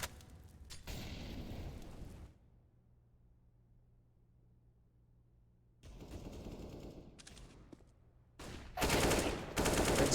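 Counter-Strike gunfire from an AK on the map Mirage during an ESEA MDL Season 36 Europe match between Forze and GamerLegion: dense bursts of rapid automatic shots come in clusters, separated by a near-silent stretch, with loud bursts at the end.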